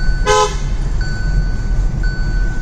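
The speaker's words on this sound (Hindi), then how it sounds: "हैला का पर्ल हॉर्न लगाया है, और उसका साउंड टेस्ट कर लेते हैं।" Hella Pearl trumpet horn fitted to a car, giving one short, loud, bright honk near the start, followed by faint tonal ringing against steady background noise.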